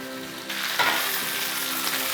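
Whole fish sizzles loudly in a hot frying pan, a constant crackling hiss that swells after a moment and keeps going.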